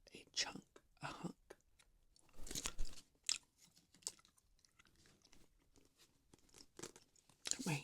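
Lemon Quench gum chewed close to the microphone, wet smacking and crunchy bites in uneven bursts between pauses, with soft whispered talk in between.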